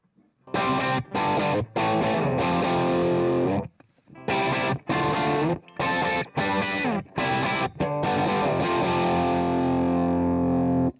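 High-gain distorted electric guitar played through an amp modeler's stock cabinet, sharp chugging chords and bursts broken by short stops and ending on a ringing sustained chord, loud and close with no talk.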